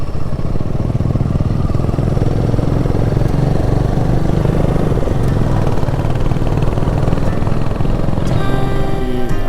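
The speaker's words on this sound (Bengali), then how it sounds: "3টে বাইকের গ্রুপ যাচ্ছে এখন" A group of three motorcycles riding on a mountain road toward Dirang in Arunachal Pradesh, their engines a loud, close, continuous drone that stays steady throughout.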